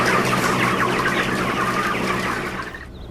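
A crowded flock of chickens, likely farmed birds packed in a shed, clucks and chatters continuously in a dense, loud chorus that fades slightly toward the end.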